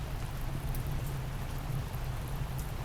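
Pouring rain falling as a steady, dense hiss with a low rumble beneath, constant and close with no voices.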